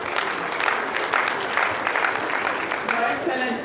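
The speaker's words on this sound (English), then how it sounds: "Please applaud her." Audience applause at an education hub inauguration in Edo State, a dense burst of many hands clapping in a hall, steady and moderately near, with voices mixed in.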